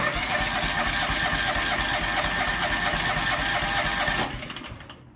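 A John Deere 445 engine cranks on its starter with the throttle wide open during a compression test, a loud close rhythmic churning for about four seconds before winding down.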